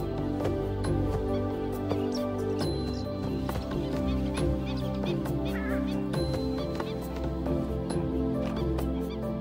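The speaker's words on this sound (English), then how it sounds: "This is the purple swamp hen, also called the sultana bird, famed for its very loud, explosive call." A purple swamp hen, or sultana bird, in a Thai wetland gives loud, explosive honking calls, repeated in quick bursts over a dense, steady background.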